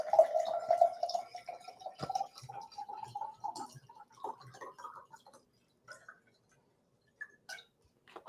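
A drink poured during a podcast recording, a thin continuous stream at first that tapers into scattered drips and small clinks before falling quiet.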